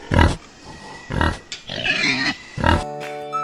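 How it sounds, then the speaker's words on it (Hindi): A pig grunts and oinks loudly up close, several snorting calls in a row separated by short pauses. "इसे कहते हैं पिग।"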